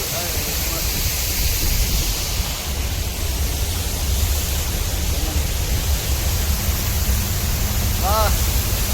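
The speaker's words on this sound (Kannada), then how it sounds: "ಫುಲ್ಲು ಮೇಲ್ಗಡೆಯಿಂದ ಜಲಪಾತ ಆಗಿಬಿಟ್ಟಿದೆ ಮಿನಿ ಫಾಲ್ಸ್" Steady, loud rush of water pouring down a small waterfall at Hogenakkal Falls fills the whole clip, a continuous broadband roar close by with no breaks.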